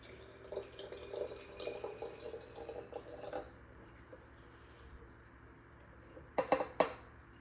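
Starch and deionized water poured into an Erlenmeyer flask in a lab: light splashing and trickling for a few seconds, then quiet, followed by a couple of sharp glassy clinks near the end.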